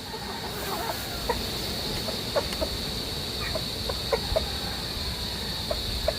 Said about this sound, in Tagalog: Puro mangingitlog na rin mga yan, mga dalaga.